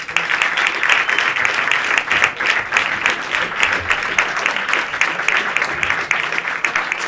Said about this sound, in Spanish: Fuerte aplauso para Andrés Feingold.